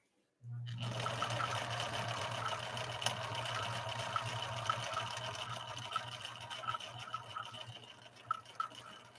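A Viking 6020 sewing machine runs a yellow decorative stitch pattern, starting abruptly and holding a steady, close mechanical whir with a low hum and faint rhythmic ticking of the needle.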